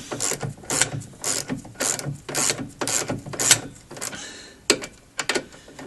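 A ratchet winds a 13 mm nut onto a Renault Clio anti-roll bar drop link, giving bursts of sharp, close, metallic pawl clicks in an uneven rhythm with short pauses, no voices.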